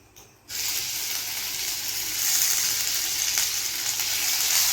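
Nigella seeds and ginger paste hit hot oil with a sudden loud sizzle after a brief quiet moment, then keep frying in a dense, steady hiss that grows slightly stronger, with no talking.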